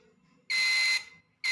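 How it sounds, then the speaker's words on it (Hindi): A Microtek Jumbo sine wave inverter beeps as it powers on after a TIP122 transistor replacement. Two loud, shrill electronic beeps come in a row, the first about half a second long, over a faint low hum. "तो ये बीप साउंड आ गया, इसका मतलब ये हमारा सिस्टम जो है ऑन होगा।"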